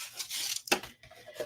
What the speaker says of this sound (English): Now let me show you with a little bit of sandpaper.